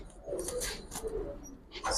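Silver and bagha pigeons coo softly in a loft, with a few low rolling calls close by over faint background noise.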